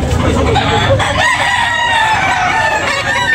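A loud, close rooster crow, long and wavering, carried over a busy background of other fowl clucking at a chicken market in Tabunok, Talisay.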